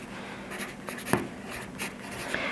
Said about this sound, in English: I'm gonna use pencil to start off